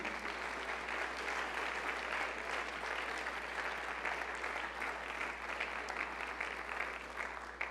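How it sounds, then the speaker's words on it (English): Sustained audience applause fills a university opening session as an award-winning enrollment management team is honored, steady and dense throughout with no talk over it. "I'm going to give a round of applause for this team."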